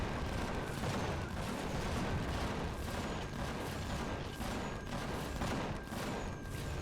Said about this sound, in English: Oh, my artillery cannon's already firing.